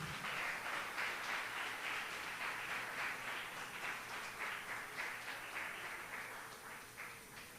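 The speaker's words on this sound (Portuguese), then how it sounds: "Dê uma salva de palmas ao Senhor." Sustained applause from a church congregation during a sermon fills the space, a dense wash of clapping that holds steady before gradually thinning toward the end. No talking.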